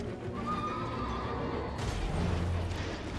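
A horse neighs in Elden Ring: a clear whinny near the start, then hoof clip-clop and a heavy impact as the mount bumps into the player, all fairly faint.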